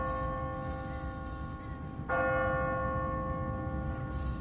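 A church bell in the video game The Walking Dead, set in Savannah, strikes once midway and rings on in a long, bright resonant hum over a low steady drone.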